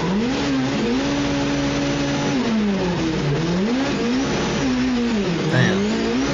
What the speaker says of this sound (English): Look at all these drift cars